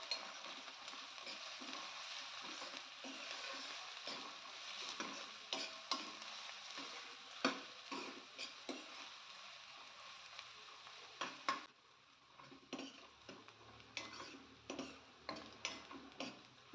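Onions sizzle in a hot pan while being sautéed, a steady frying hiss broken by repeated light scrapes and taps of a spatula stirring them.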